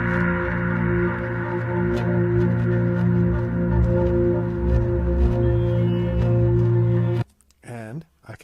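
Music layered with a sustained drone, a thick steady bed of held tones running continuously at moderate loudness before cutting off near the end, followed by a short different tail.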